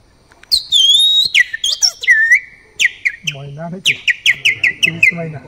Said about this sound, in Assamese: সৰু সৰু চৰাই কেইজনী আকৌ মাতি উঠে